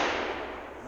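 A Marlin 336 lever-action rifle in 30-30 fired offhand outdoors toward a target about 200 yards away: a loud, sharp report that rolls off into a long, decaying echo over about a second.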